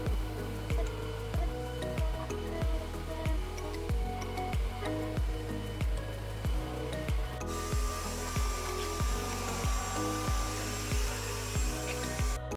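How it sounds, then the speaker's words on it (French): A robot vacuum cleaning a living-room floor gives a steady mechanical whir with regular rhythmic knocks about twice a second, close and moderately loud. The tone gets brighter partway through. "je programme l'aspirateur robot afin qu'il nettoie également le salon tout entier"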